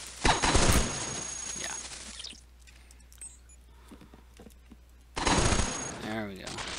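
Bursts of rapid gunfire in the robot game Cogmind, loud volleys at the start and again near the end with a quieter stretch between.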